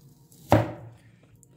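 A single sharp chop of a Rocket Steel Germany stainless steel cleaver slicing through an onion on a board, one crisp close impact with a brief decaying tail in an otherwise quiet kitchen.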